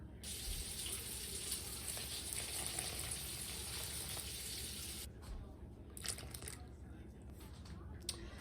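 Hot tap water pours steadily into a bowl for bread dough for about five seconds, then stops, leaving a few faint drips and clinks; no one speaks.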